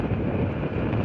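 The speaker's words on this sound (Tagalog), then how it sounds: "Super kuhan ng hangin mga kabro." Strong wind buffets the microphone on the CCLEX bridge in Cebu, a steady loud roaring rush with no pauses over the brief moment.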